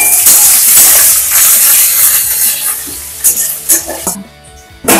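Whole cloves, cardamom and cinnamon with raw onion and whole garlic cloves hit hot oil in a kadai for mutton kosha, giving a loud, close, continuous sizzle and hiss that thins out near the end with a few stirring scrapes.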